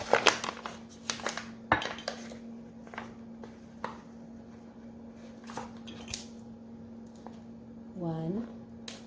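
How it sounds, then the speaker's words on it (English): Flour is scooped and measured into cups for shortbread in a home kitchen, giving soft scrapes, light taps and clinks in scattered bursts over a steady low hum, with a brief voice near the end. "So here's my flour. I'm just going to measure out 2 cups."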